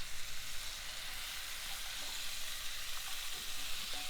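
Freshly cut paprika sizzles in hot oil in a pot while braising a Basque-style lamb shank, a steady close hiss throughout with faint stirring scrapes and no voices over it.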